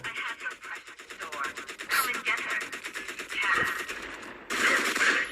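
Rapid machine gun fire from a turret in X-Men: The Official Game rattles in fast, even bursts, loud and close, with short gaps and a voice faintly under the shots.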